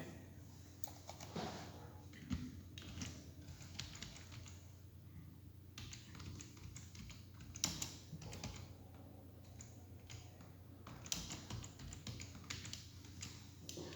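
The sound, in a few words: typing on a computer keyboard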